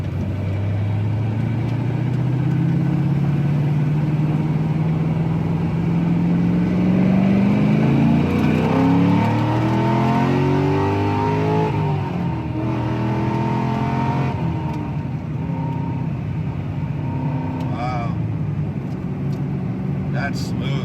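A Corvette making 584 horsepower at the hub accelerates hard on a highway, its engine note climbing steadily through the gears as a loud, close, sustained roar with rising harmonics, with interior wind and road noise throughout.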